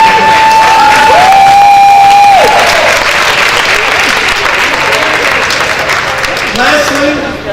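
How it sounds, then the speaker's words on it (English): Loud, sustained applause from an audience seated in a school gym at a banquet, with some cheering mixed in; the clapping runs the whole time, fading slightly toward the end, and a few tones sound over it early on. "So please give them both a round of applause."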